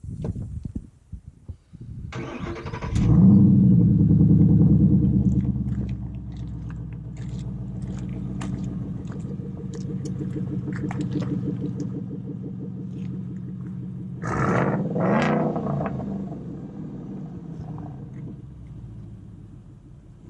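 A 2013 Ford Mustang Boss 302 with quad exhaust revs up to a loud roar, settles into a throaty idle rumble, then blips again with a sharp burst before fading.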